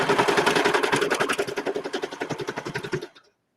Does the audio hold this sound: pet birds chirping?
no